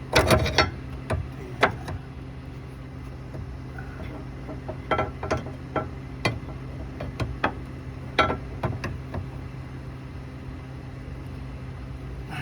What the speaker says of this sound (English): Stick a crowbar underneath here.